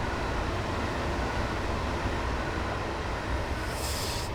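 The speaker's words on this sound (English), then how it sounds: "Probably have to wait for this train, I'm guessing." A passing train in the Train Simulator 2015 video game, from a Class 303 run between Larkhall and Rutherglen, gives a steady dense rumble and rush that holds throughout at moderate level.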